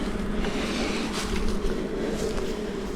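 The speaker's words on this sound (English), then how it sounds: "A few bees left in the basket" Honeybees from a captured swarm humming in a basket, a dense continuous buzz that stays steady and fairly loud throughout, with no talking.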